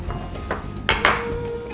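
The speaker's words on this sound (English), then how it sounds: "mince up our green onion" Green onion being minced on a cutting board: a few light knife taps followed by two sharper, louder chops close by, in a quiet kitchen.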